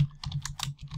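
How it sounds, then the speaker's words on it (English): Keys clatter on a computer keyboard in a quick burst of typing, several close, crisp clicks in uneven rhythm with brief pauses between, alone without talk. "Apologize for my typing"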